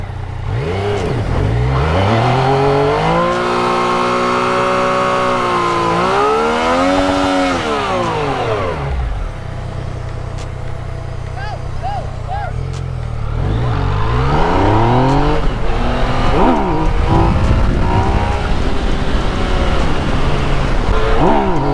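A Cadillac CTS-V with NOS roars and revs hard through a street burnout, engine pitch sweeping up and down in long pulls with tire and exhaust roar, voices briefly audible.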